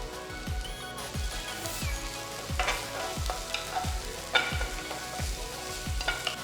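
Onion, garlic and ginger sizzle steadily in sesame oil in a pan, with a spatula stirring in regular scrapes roughly every half second, close and fairly loud with no talking.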